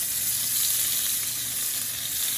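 Steak frying in a hot pan, a close, steady, bright hiss of sizzling fat that holds at an even level without pauses.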